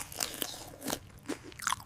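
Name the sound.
biting into crunchy homemade pizza crust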